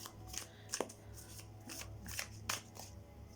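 Tarot cards are handled and arranged by hand in a quiet room: a series of soft, irregular papery riffles and slaps, close and fairly faint, with no talk.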